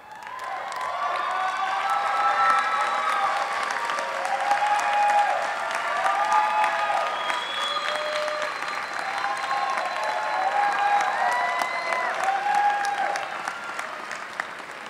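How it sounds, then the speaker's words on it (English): Graduates at a University of Arizona Eller College undergraduate commencement give a big sustained round of applause in a large hall, with scattered cheers and whoops rising over the dense, continuous clapping. "give the biggest round of applause to everybody that's here"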